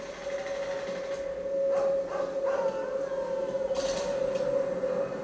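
Dogs howl in the video game Dead Rising 2: Case Zero, a sustained wavering tone running steadily through the clip over a dense background of game noise, with bursts of other effects near the middle and end.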